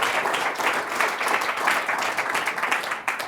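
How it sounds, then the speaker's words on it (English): Audience applause at a Toronto university event, a steady wash of many hands clapping at even loudness for about three seconds, with no one speaking over it. "Give him a round of applause."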